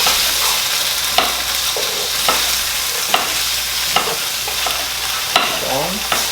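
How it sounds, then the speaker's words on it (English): Tofu fries in a hot pan with a steady, loud sizzle, broken by sharp scrape-and-stir strokes about once a second, with no talking. "we're gonna cook the tofu first"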